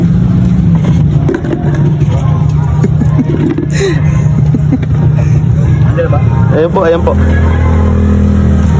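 A car drives up close and loud, its engine hum rising and settling while several people talk excitedly over it.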